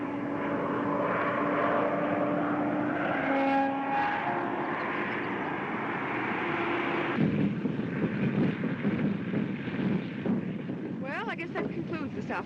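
A 1930s propeller airplane flies overhead, its steady droning engine loud at first, then fading into windy rumble while someone talks.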